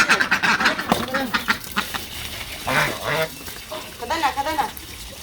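Ducks quack repeatedly in short nasal bursts, with people talking and shouting nearby over an outdoor background.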